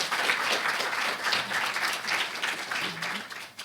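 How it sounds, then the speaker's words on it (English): Steady, sustained applause from a large audience at a Peace Corps training event, an even roar of many hands clapping that holds throughout at moderate loudness. "So let's give Carrie a round of applause."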